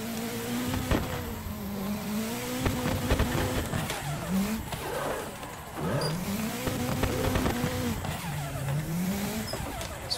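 Cars drift in tandem in the Assetto Corsa racing game, with a steady engine roar and repeated wavering tire squeals that rise and fall through the run, loud and continuous with no talking.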